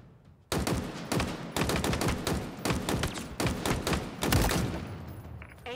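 Weapon fire in the shooter game Halo Infinite, loud, close bursts of repeated shots fired in several rapid strings with short pauses between them, standing alone with no talk.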